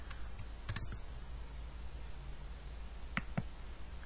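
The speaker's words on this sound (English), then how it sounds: "when I click on submit" A handful of soft, close mouse clicks on a quiet desk, one short cluster early and two more clicks after a pause.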